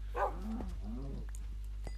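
A Minecraft dog gives a brief bark, followed by a few softer whining yips. The sounds are faint and close, over a constant low hum, with no talking.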